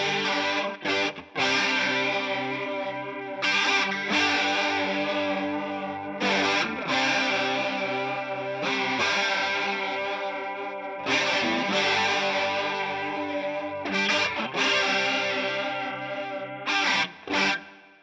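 Overdriven signal through a TC Electronic chorus/flanger modulation effect, distorted chords strummed in repeated bursts with a swirling comb-filter shimmer, moderately loud with no voices.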